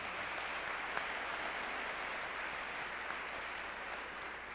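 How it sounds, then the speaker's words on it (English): Applause for guests representing local officials at an MLK tribute celebration in Montgomery County; quiet, distant, even clapping from a large audience, sustained without a break and with no speech on top. "let's give them a round of applause as well"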